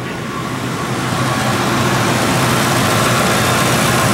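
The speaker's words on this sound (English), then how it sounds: "I don't think I've quite ever heard this car run this good before." A 2-valve 4.6-litre V8, freshly repaired after intake manifold work, runs at a smooth, steady idle, with a dense, unbroken engine rumble heard up close and no talk over it.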